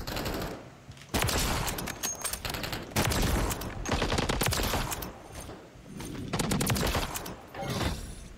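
Automatic weapon fire with the Dune Harkonnen tracer pack in Call of Duty MW3: loud, close bursts of rapid shots come in several volleys broken by short pauses, with no talking.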